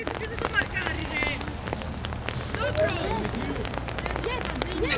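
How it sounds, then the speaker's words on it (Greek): Light rain pattering steadily across an open football pitch during a 0-0 match, a soft continuous hiss with scattered drops, with distant crowd murmur and a commentator speaking over it. "με μια σιγανή βροχή σχετικά"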